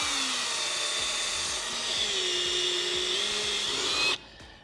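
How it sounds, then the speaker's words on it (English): A power drill whines steadily and close up as it drives into a wooden deck board, its pitch shifting slightly, then the motor stops abruptly near the end. "try to keep your drill bit straight at a 90."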